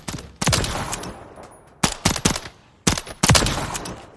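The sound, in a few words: Beretta M9 pistol shots in video game Call of Duty Modern Warfare III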